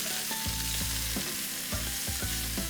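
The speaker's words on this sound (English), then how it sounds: "I'm just gonna go ahead and add in the vegetables. So I've got some thinly sliced red onion along with some peppers." Thinly sliced red onion and peppers sizzle loudly in an oiled skillet, a constant frying hiss broken by repeated scraping thumps as the vegetables are stirred.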